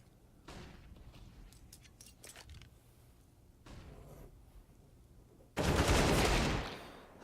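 Rapid bursts of AK-47 gunfire in a competitive Counter-Strike match, a few scattered shots and short volleys early on, then a loud, dense burst near the end, with no voices.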